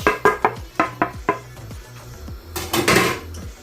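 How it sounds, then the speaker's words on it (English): Nutmeg is scraped against a grater while Nigerian jollof rice is being prepared, giving a run of short, close, regular scraping strokes, followed by a denser, louder burst of rasping near the end. "I just scratch the nutmeg here."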